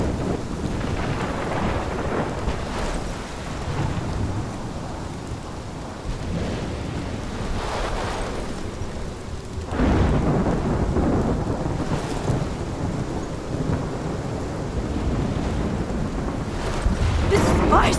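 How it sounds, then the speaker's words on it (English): A thunderstorm in the video game Life is Strange, with steady heavy rain and rolling thunder that surges louder partway through, continuous and dense for the whole stretch with no voices. "This is my storm."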